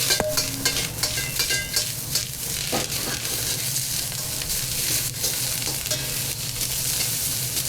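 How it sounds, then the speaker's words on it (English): Chow mein noodles sizzle and hiss loudly in a wok over maximum heat, with steady frying noise and repeated scraping stirs and clanks throughout. "We're gonna fry these."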